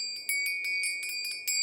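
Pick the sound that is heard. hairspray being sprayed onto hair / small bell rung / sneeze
small bell rung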